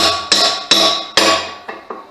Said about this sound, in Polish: Parę młotów, jak to się mówi, bez młota to nie robota